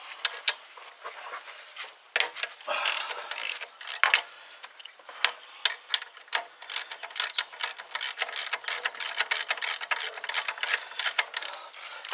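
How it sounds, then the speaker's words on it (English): A 15 mm socket ratchet clicks while loosening an alternator bolt on a Ford Taurus, with quick uneven bursts of pawl clicks and light metallic handling, fairly quiet and close. "So now we're going to use a 15 socket."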